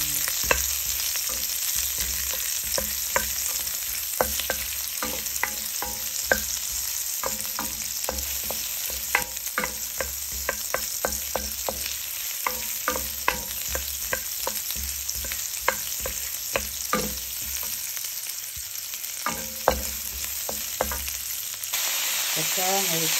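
Onion and garlic sautéing in a pan: a constant sizzle with frequent clicking scrapes and taps of a utensil stirring, close and steady for the whole stretch, with no talking over it.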